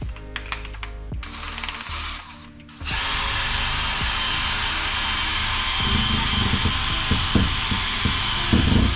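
A Scotch-Brite wheel spinning against an engine part from a 1JZ-GTE being fitted to a BMW E90, preceded by some clicking handling noises, then a loud, continuous abrasive whirring grind close up with fluctuating bursts of scraping.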